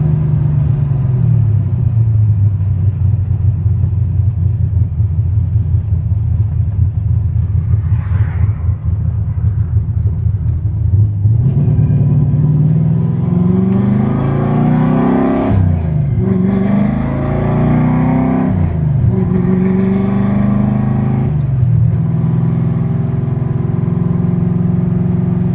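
A big-cam car with a manual gearbox pulls through a neighborhood in second gear, its engine rumbling loud and close, then revving up in several rising surges with lumpy idle underneath.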